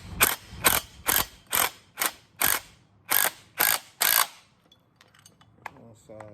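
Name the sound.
ratchet tightening bolts during Camaro TR6060 transmission install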